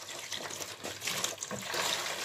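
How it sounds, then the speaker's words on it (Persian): Water is poured from a container into a bath for a small pet, a close, fluctuating splashing trickle that runs continuously for a couple of seconds with faint room sound beneath. "یه کوچولو آب میریزم این تو"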